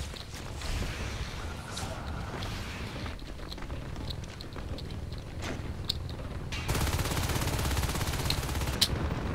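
Gunfire in Natural Selection 2 crackles in rapid repeated bursts, a steady stream of shots near and moderately loud that swells louder toward the end, with voices faintly underneath.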